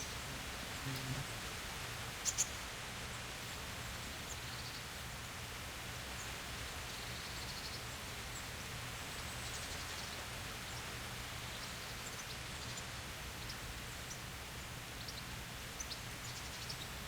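Steady rainfall in the medieval game Kingdom Come: Deliverance, a soft continuous hiss of drops with a faint rustle and an occasional distant bird, quiet and unbroken throughout.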